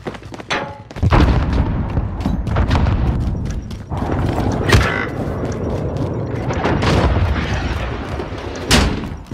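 Cruise missile strike in Modern Warfare Search and Destroy: a sharp launch burst, then heavy booming blasts and rumbling impacts rolling through the nine seconds, with a final loud crack near the end.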